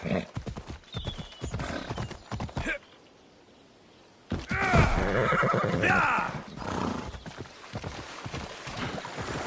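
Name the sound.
horse neighing and hooves, Assassin's Creed Odyssey video game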